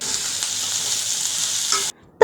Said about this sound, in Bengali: এটার আমি একটু তেলে ভাজমু তা আবার সরিষার তেলে